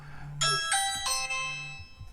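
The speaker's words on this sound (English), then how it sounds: "Sorry about that, it's a doorbell." A doorbell chimes a few ding-dong tones in quick succession, clear and fairly close, with a low hum underneath.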